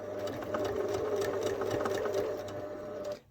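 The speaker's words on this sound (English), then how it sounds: "When you get to the end of the neck seam, make sure that you finish it with a few reverse stitches as well" A sewing machine runs steadily for about three seconds, stitching the end of a neck seam on a fabric bunny with a few reverse stitches. The motor whir is close and continuous, then stops abruptly.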